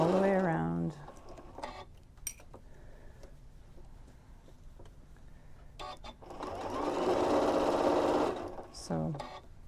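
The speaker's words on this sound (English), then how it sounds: "Just going slowly around, making sure I'm just stitching on those two layers" A Janome M6 sewing machine stitches two layers of bamboo fabric in slow bursts, its rapid mechanical whir rising loud near the end between pauses, with a voice talking over parts of it.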